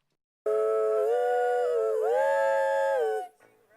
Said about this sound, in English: Let's go to the ladies singing the oohs.